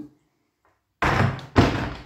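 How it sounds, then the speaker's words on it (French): A door swings shut with a solid slam indoors, followed moments later by a second heavy thud, both close and sharp after near silence. "Vous voyez, une porte qui se ferme, qui claque."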